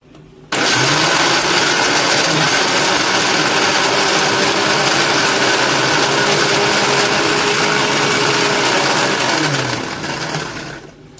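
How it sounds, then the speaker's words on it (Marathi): A mixer grinder runs loud and close for about ten seconds, grinding green chillies, coriander and garlic with a steady whirring motor roar that starts abruptly and eases slightly at the end. "ही हिरवी मिरची आणि ही कोथंबीर हा आणि हा फोडणीसाठी ठेवलेला लसूण हे सर्व वाटून घ्यायचं"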